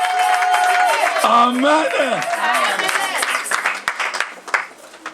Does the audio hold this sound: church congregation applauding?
yes